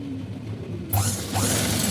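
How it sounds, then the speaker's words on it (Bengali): A sewing machine stitches blouse fabric: after a moment of near quiet, a brief, close mechanical whir and clatter starts suddenly and runs to the end. "এটা আমি সেলাই করে নিলাম"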